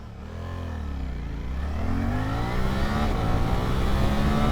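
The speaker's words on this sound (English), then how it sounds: "second gear, quick shifter, 60 mile an hour, easy peasy" A 2025 Suzuki GSX-8S motorcycle accelerates hard through the gears with a quick shifter, its engine note climbing and dropping at each clean upshift, loud and continuous from the rider's position with wind noise behind it.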